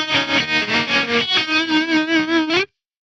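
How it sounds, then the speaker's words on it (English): Electric guitar chords pulse with a steady tremolo, the volume throbbing rhythmically about four times a second before cutting off abruptly. "I could turn on, for example, a trem with that if I wanted that effect."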